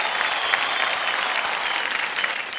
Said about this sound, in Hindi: फिर तालियों के साथ हम इनका स्वागत करते हैं।